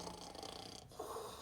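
A human voice imitates a tortoise snoring, giving a soft, raspy snore that is brief and faint, with a short pause before a second breathy snore.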